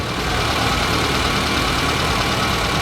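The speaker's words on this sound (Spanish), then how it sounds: "el vehículo siempre arranca un poco acelerado precisamente por la condición de temperatura. Y después se establece en marcha mínima" A car engine runs in a loud, steady, close idle with an even low rumble throughout and no talk over it.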